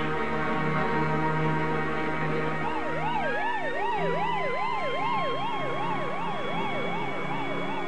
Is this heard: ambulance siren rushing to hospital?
yes